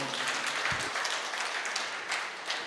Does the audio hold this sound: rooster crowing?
no